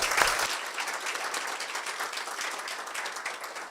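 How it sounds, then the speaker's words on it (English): Audience members at a live-streamed panel program clap steadily in a dense, even round of applause that keeps going after a slightly louder burst at the start. "Please, hand of applause for Alan to go next."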